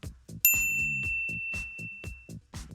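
A bright notification bell ding rings once with a clear, sustained metallic tone that fades slowly, laid over steady, ongoing speech.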